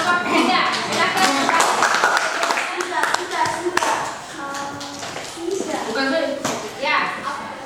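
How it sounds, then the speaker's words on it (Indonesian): A classroom group of students claps for group 3, a lively burst of fast, uneven hand claps close by, mixed with children's voices and chatter. "kita kasih aplaus untuk kelompok 3"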